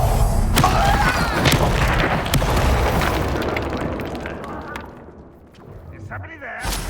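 Explosive spell blasts from the Confringo curse in Hogwarts Legacy, heavy booms and thuds going off in a busy fight, loud at first then tapering away, with a character's voice calling out over the combat.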